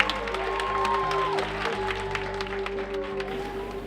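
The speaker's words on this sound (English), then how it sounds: "I also want you to please join me in a round of applause for Mrs." Audience applause at a school or community gathering, a steady spread of clapping under a persistent low hum and tonal drones, fading slightly toward the end.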